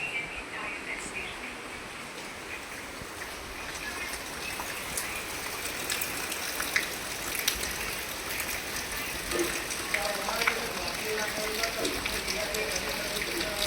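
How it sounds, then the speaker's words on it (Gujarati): Steady rain pours down, a dense hiss of drops on surfaces with scattered louder patters, continuous throughout. "જબરજસ્ત વરસાદ ચાલુ થઈ ગયો છે"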